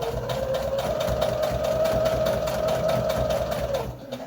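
Sewing machine stitching a seam through fabric and foundation paper for a Christmas star block, a steady close mechanical hum with rapid needle pulses running for about four seconds, then easing off at the end.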